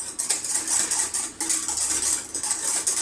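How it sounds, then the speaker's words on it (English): A spoon scrapes and clinks steadily against a pan while chocolate souffle base is stirred into a thick paste, quick repeated metallic strokes close by with no talking. "making sure it doesn't catch on the bottom of the pan. Stirring all the while"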